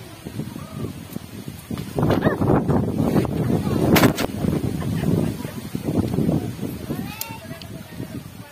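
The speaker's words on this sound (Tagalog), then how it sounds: "Medyo malakas ang hangin." Strong wind buffets and roars across the microphone in gusts, with a few sharp knocks and faint voices underneath.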